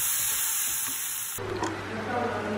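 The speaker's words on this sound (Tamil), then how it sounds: "இஞ்சி பூண்டு பேஸ்ட் போட்டுட்டு ஒரு 1 minute இத ஃப்ரை பண்ணிடுறோம்" Ginger garlic paste with onion frying in a pan, a steady broad sizzle that shifts abruptly partway through to a denser, louder frying hiss with faint stirring scrapes.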